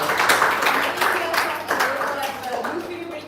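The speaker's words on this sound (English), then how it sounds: "I think we need to give you a round of applause all over here." An audience at an employee speech competition clapping for contestants, a crowd of steady hands heard close, with people talking over it.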